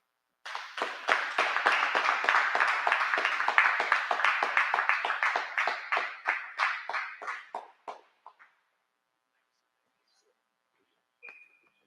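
An audience in a hall gives Dr. Will Boyd a round of applause: brisk, close clapping starts abruptly, holds for several seconds, then thins out into a few scattered claps and fades to silence.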